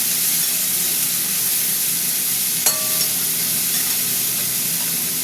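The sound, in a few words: potato frying with onion in pan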